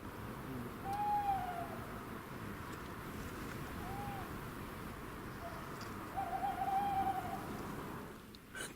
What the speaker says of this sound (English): A tawny owl, right near the shelter.